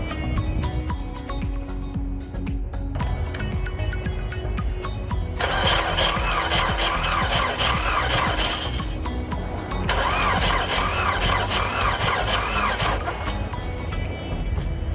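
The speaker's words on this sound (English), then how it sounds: "let's start this vehicle and see if we get any light" A 2009 GMC Acadia with a possible ignition fault is cranked, its starter whirring in two long bursts between stretches of low rumbling, close and loud.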